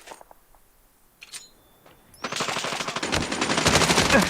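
Rapid bursts of MP5 submachine gun fire in a video game ring out loud and close in the second half, after a quieter stretch of scattered faint clicks and shots.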